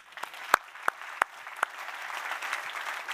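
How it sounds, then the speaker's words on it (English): Scattered claps from a conference audience, Swift Innotribe closing at Sibos 2023, start as a few sharp, separate hand claps and then swell into soft, continuous applause, with no talking over it. "So a big round of applause for all Sibos speakers, but particularly Innotribe speakers."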